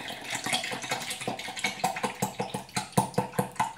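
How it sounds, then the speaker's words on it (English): About 250 ml of water splashes into a container for a protein shake: a steady pour with rapid, irregular splashing that turns into rhythmic sloshing pulses, close and moderately loud. "It's just splashing everywhere casually."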